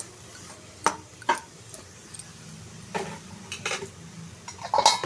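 Carrot halva being stirred in a pan, a spoon clinking and scraping against the metal in scattered, irregular knocks, fairly close with a quiet background.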